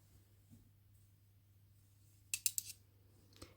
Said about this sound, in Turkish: Sondaki 2 ilmeğimi kesiyorum.